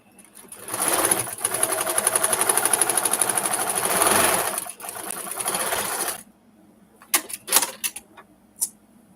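Sewing machine stitching seams of a quilt block, running loud and close in a fast steady whirring hum for about six seconds, then stopping, followed by a few scattered clicks and handling taps.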